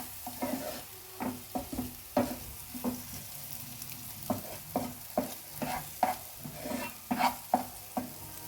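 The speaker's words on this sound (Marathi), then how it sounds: "परत ढवळून घेऊया चांगली।" Masala pav masala being stirred in a pan, with repeated scraping strokes of a spatula in an irregular rhythm over a continuous soft sizzle, close and fairly loud.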